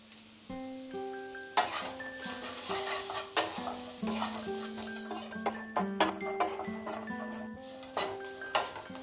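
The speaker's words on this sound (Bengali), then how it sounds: "এবারে আমরা এটাকে আরো 2 মিনিট মতো ফ্রাই করব মিডিয়াম আঁচে।" Oats fry in a pan over a medium flame while a spoon stirs them steadily, scraping and sizzling close by, with soft background music running underneath.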